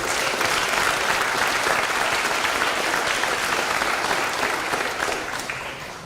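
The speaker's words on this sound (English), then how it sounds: "let's give a round of applause for all the wonderful athletes in the room" A room full of people at a school board meeting applauds the athletes, a dense, steady round of clapping that holds evenly for several seconds before tapering off at the end.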